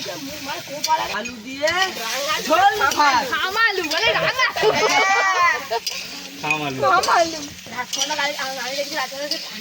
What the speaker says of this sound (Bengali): আলু ভাজা হয়ে গেছে নুন আর হলুদ দিয়ে ভালো করে ভেজে নিয়েছি